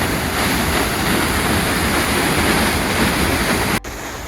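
Waterfall on Drift Creek Falls Trail in Oregon's Siuslaw National Forest, a loud, constant broadband roar of rushing water that drops off abruptly near the end.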